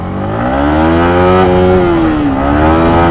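A damaged Yamaha MT-15 motorcycle engine revs loudly and close up, pitch climbing, holding, then dipping and rising again in a sustained rasp.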